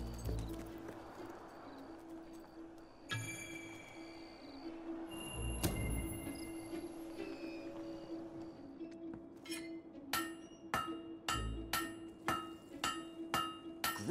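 Blacksmith hammering a blade at a forge in the video game Fable 3, bright metallic clinks ringing out in a quick regular series in the second half, preceded by scattered clanks over a low ambient hum.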